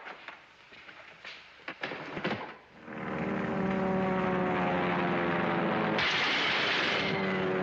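Propeller airplanes fly overhead, a loud sustained engine drone with steady harmonic hum that swells and holds, preceded by a few sharp thuds.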